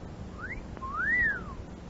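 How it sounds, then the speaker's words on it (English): A person whistles a short rising-and-falling tune, two clear slides with the second longer and louder, against quiet background hum. "don't whistle"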